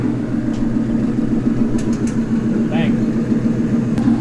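A car engine idles with a steady low rumble throughout, a few faint higher ticks and a brief squeak riding over the constant drone, with an earlier startup pop.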